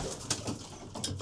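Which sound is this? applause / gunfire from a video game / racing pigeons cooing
racing pigeons cooing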